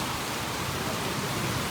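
Heavy rain pours down in a dense, continuous hiss, loud and even throughout with no talking.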